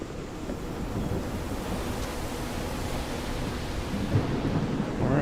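A thunderstorm rumbles in the video game Call of the Sea, a dense, steady roar of rain and low thunder filling the whole stretch without speech.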